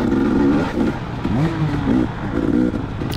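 A dirt bike engine revs hard just behind the rider during a dusty motocross-style GP race lap, with choppy throttle bursts and a rising whine over the rider's own engine noise, close and loud.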